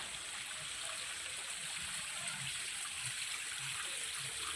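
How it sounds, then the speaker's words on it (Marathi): A stream flows near a village Kalbhairav temple in the Alibag area, giving a faint, steady rushing and trickling wash throughout, with no voices. "मस्तपैकी असे पाणी आहे हे बघा"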